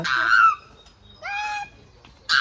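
A bird at a zoo gives three clear, tonal calls, close and fairly loud, separated by short quiet gaps.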